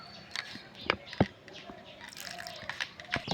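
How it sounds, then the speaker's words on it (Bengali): Water is poured little by little onto flour for a dough, making a few close drips and soft wet squishes with light splashy patter between them. "এবারে এগুলো আমি জল দিচ্ছি অল্প অল্প করে"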